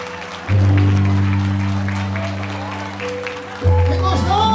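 Congregation applause at an evangelical church service in Sousa, Paraíba, steady clapping running beneath loud sustained organ or keyboard chords, with a voice speaking over it.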